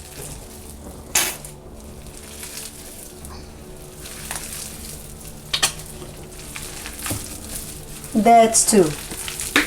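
A spoon scrapes and stirs a meatloaf mixture with ketchup in a bowl, giving soft, uneven wet squelches that run steadily, with a few sharper clinks near the end and a brief spoken phrase.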